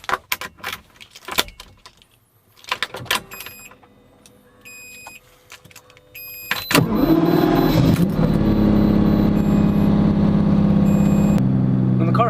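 A Lamborghini Diablo starts up after keys jangle and a few clicks; the engine catches with a sudden loud roar and holds a steady, high rev close by for several seconds.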